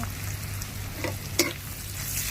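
Mala chili paste stir-fried in a hot wok gives a steady close sizzle, with a few sharp scrape clicks from a spatula against the metal and a low hum underneath.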